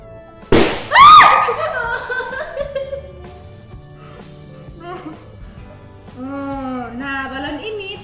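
A balloon held over a candle flame bursts with a single sharp bang in a kindergarten class, followed by children's excited shrieks and laughter, then voices chattering.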